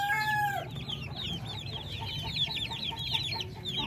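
Darag native chickens, three hens and a rooster about two months old, clucking steadily and fairly close in a quiet farm setting, with a brief crow-like call at the start.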